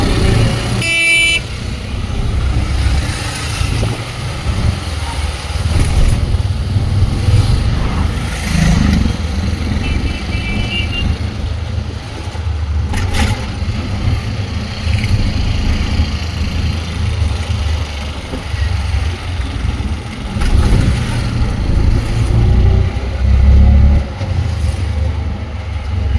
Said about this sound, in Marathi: आता किती सारे ट्रॅफिक आहे.